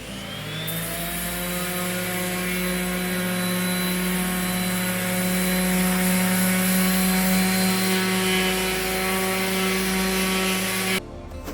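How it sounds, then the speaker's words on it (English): A power sander strips the finish from a mirror frame during a bathroom makeover, giving a steady, loud, close motor whine with a faint pulsing texture that runs unbroken until it stops abruptly at the end. "I'm taking that off with a sander"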